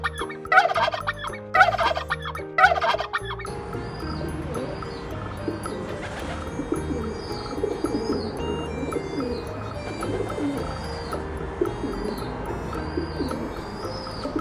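Turkey gobbling repeatedly in a rapid rattling burst, then continuing among other fowl and cooing pigeons or doves in a busy farmyard chorus, fairly loud and close.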